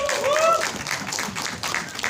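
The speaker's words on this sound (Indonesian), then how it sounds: "Boleh kita berikan tepuk tangan sekali lagi." Audience applause at a press conference for the film Penerbangan Terakhir, a dense patter of clapping with voices and a short whistle-like tone near the start.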